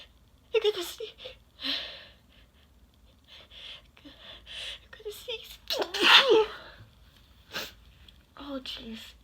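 A person lets out one loud, sharp sneeze partway through, set off by poking a Q-tip in the nose, with breathy sniffs and some talking around it.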